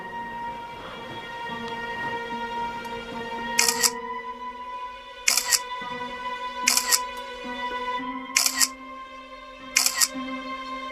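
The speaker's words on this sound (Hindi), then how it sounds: "अब एक काम करती हूँ, अपनी 2-4 फ़ोटो ले लेती हूँ।" A phone camera shutter clicks five times at irregular intervals of one to two seconds, sharp and close, over a steady background hum with no talking.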